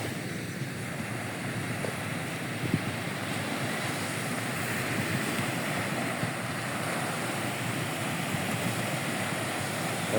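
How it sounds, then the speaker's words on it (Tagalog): Steady, broadband wash of sea waves at the shore in Sipalay City, continuous and moderately loud with some wind noise buffeting the microphone, no distinct breaking crashes, and no voices. "Ang dagat dito"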